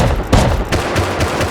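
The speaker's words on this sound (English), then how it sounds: "Someone got hit with a shotgun trap." Sharp, booming shotgun blasts from a trap in Rust go off in rapid succession, loud and close, several shots landing within a second or two.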